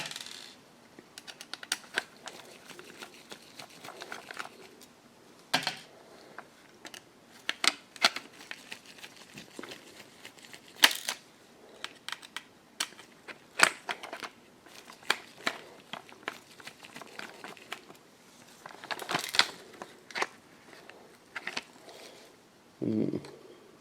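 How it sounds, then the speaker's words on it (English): Small Phillips screws come out of the main board of an emergency hurricane radio, with scattered light metallic clicks, taps and rattles from a screwdriver and parts. Quiet and close, with brief gaps between the sounds. "it also has some Phillips screws on it, which I can take out."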